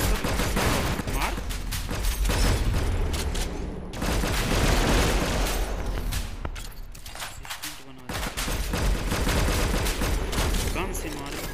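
Dense, continuous gunfire and explosions from the Infinity Ops video game fill the stretch, with a voice talking faintly under the shooting.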